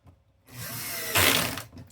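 Power screw gun running on an Xbox Series X console's screws: a steady motor whine for about a second, rising to a louder burst before winding down, close up, with no talking.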